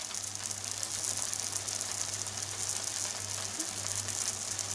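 Hashed radish frying in a pan gives a steady, close crackling sizzle that holds at an even level the whole time, over a low constant hum, with no voices.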